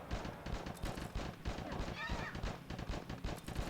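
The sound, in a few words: gunfire from video game Tiny Troopers: Joint Ops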